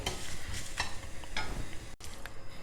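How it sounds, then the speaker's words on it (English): Whole spices dry roasting in a pan with no oil, stirred steadily so the seeds scrape and rattle across the hot metal, with a faint sizzle running continuously at close range and a brief pause partway through. "Now I am just dry roasting all the spices without adding any oil."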